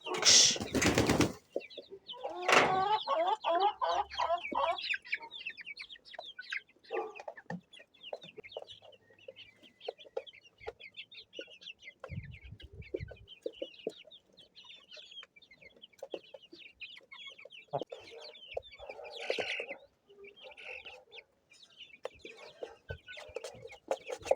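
Chickens clucking and a rooster calling on a small farm, with wing flapping early on and steady clucks continuing throughout, close and moderately loud, while a person occasionally speaks softly.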